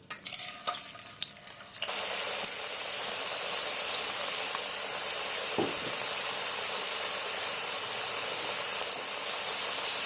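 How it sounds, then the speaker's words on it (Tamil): Cut potato fries dropped into hot oil for homemade crispy French fries, a brief splash near two seconds followed by a steady, loud frying sizzle that fills the rest of the stretch with no talk. "எண்ணெய் பார்த்தீங்க அப்படின்னா நல்லா காஞ்சிருக்கணும். நல்லா காஞ்சிருக்கு. இப்போ போட்டு பொரிச"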